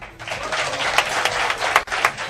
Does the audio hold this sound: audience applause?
yes